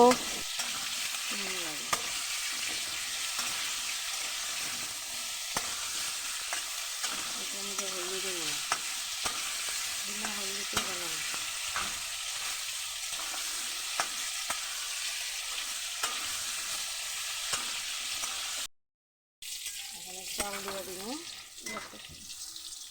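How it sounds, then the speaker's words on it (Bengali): Sweet pumpkin pieces fry and get stirred in a pan, a steady sizzle running throughout with repeated scraping strokes of the spatula, interrupted by a brief pause near the end. "নুন দিয়ে এবার ভালো করে নাড়াচাড়া করে ভেজে নেবে মিষ্টি কুমড়োগুলো"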